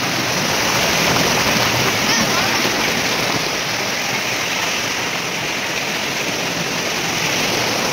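Flood water rushing through a village stream, a loud, dense, steady roar of turbulent water that continues unbroken and close by.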